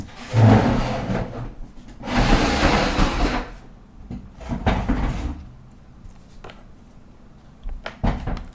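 Wooden chair creaks and scrapes as it is moved aside and a stool is set down in its place, several rubbing, knocking bursts close by with quiet pauses between them.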